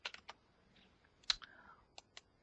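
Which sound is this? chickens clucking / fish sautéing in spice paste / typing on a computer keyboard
typing on a computer keyboard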